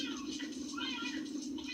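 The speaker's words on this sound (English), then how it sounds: "Yo, cat fight." Cats fight with steady, strained yowling and caterwauling, a continuous moderately loud wail that persists without pause.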